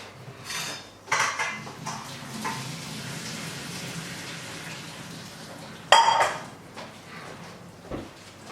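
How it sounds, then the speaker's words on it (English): Cooked noodles being drained in a home kitchen while cooking chicken chow mein: clattering pot and metal knocks, a rushing pour of water, then sharp clanks of cookware near the end, with no talk. "So let's just drain my noodles first."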